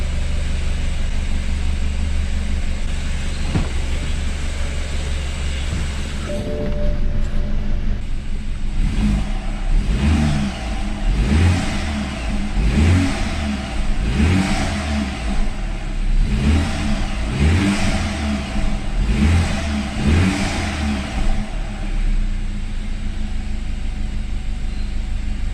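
A rebuilt BMW engine, once seized, idles with a low steady rumble, then gets blipped repeatedly in a series of quick rhythmic rev bursts before dropping back to idle, heard close up.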